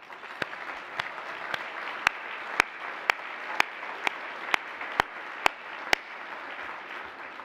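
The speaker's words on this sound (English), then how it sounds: "Let me just ask you to applaud each other for your work" Conference audience at a healthcare keynote and awards event applauding one another, a dense, sustained wash of clapping from a large crowd, fairly loud and steady throughout, with a few sharp louder claps standing out at regular intervals.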